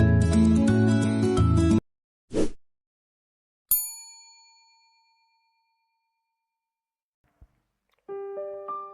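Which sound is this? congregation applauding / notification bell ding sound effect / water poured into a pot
notification bell ding sound effect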